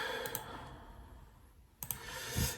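A computer mouse clicks a few times while windows are being closed, sparse sharp ticks in a quiet room with a faint background hiss, close and soft.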